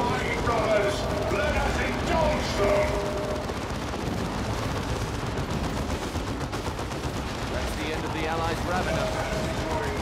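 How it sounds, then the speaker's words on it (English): Heavy bolter turret fire in the video game Dawn of War II, a loud, dense stream of rapid gunfire and explosions mixed with battle noise, running continuously under excited talking. "heavy bolter turret, please suppress them"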